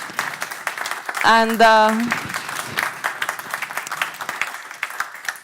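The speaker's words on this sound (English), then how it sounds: "a big round of applause for Mr. Volodymyr Kudrytsky" An energy conference audience applauds a guest, a steady wash of clapping throughout, while someone briefly speaks over it partway through.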